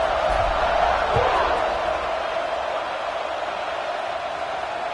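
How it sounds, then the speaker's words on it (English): Stadium crowd in the football video game NCAA 26 keeps up a steady, loud, broad roar through the whole stretch, with a couple of low thumps early on and no clear voices standing out. "this crowd is buzzing after that last score"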